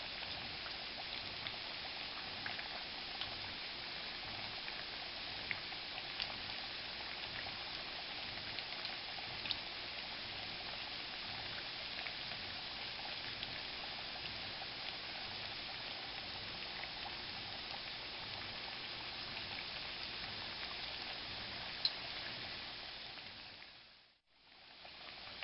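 Plantain slices for tostones fry in hot oil, a steady dense crackling sizzle that runs unbroken and close for the whole stretch, then drops away briefly near the end.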